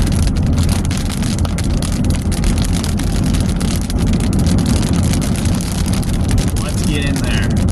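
Heavy rain pounds a vehicle as it drives into a storm's rain curtain in Wisconsin, a dense, constant roar of drops mixed with road and engine noise, loud and unbroken throughout.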